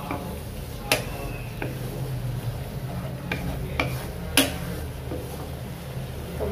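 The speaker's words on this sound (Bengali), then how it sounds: "এখন মশলাটাকে একটু ভালো করে কষিয়ে নেব" Spice masala with turmeric and a little chili is stirred and fried in a pan, giving a few scattered scrapes and taps over a soft sizzle and steady low hum.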